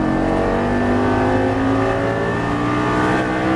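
A Lamborghini Gallardo engine revs hard under acceleration on a circuit, a loud steady roar heard from inside the car that climbs gradually in pitch throughout.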